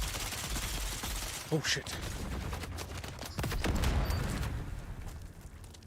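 SMG fire in the game Dune Awakening, a dense continuous rattle of rapid shots that swells toward the end, heard a little distant under a short spoken exclamation.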